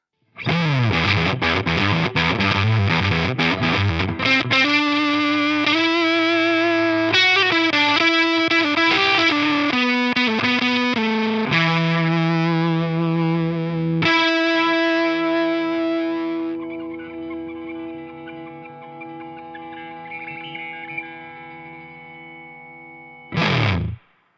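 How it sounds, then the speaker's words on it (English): A drop-tuned Ibanez Iceman electric guitar plays through a fuzz pedal, giving thick, saturated riffs and chugging chords for about fifteen seconds. A long sustained note then fades and decays, followed by a brief final strum. "It would be wrong of me not to put this through a fuzz pedal, so let's do that. And let's drop tune it."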